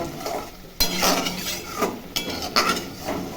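Spices with cumin powder being stirred and sautéed in a pan, with spoon scrapes and light clinks against the metal over a soft sizzle, in several close bursts.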